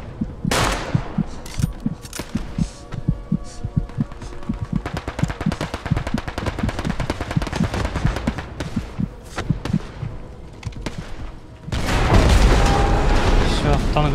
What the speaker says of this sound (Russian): Танк взорвали.